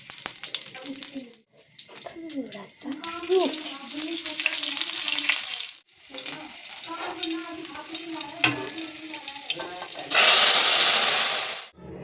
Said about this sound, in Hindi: अब मारते हैं तड़का